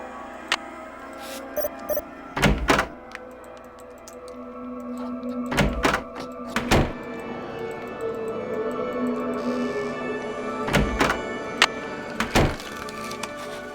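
A locked door being tried in the Nancy Drew game The Haunted Carousel: several sharp thunks and rattles come in short clusters across the clip, with quiet gaps between them and no talking.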